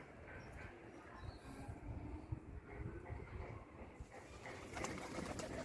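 Large pigeons coo softly in a loft, low murmuring calls layered with rustling and occasional wing flaps, a steady close-up flock sound with a brief brighter flutter near the end.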